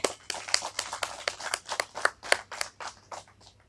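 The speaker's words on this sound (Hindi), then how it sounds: "एक जोरदार तालियां हमारे प्रेसिडेंट तामे तुबिन जी के लिए" A handful of people clap for their president in a quick, rhythmic burst of sharp, distinct claps, close and fairly light, fading toward the end.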